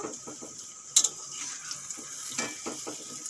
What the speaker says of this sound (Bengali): টিয়ালুর বড়াগুলো সুন্দর করে ভেজে নিয়েছি এখন তুলে নেব